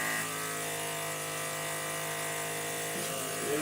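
A vacuum clamp used to hold a thin wood panel down for thickness sanding runs as a steady, close mechanical hum with a faint buzzing drone throughout, a slight change near the end.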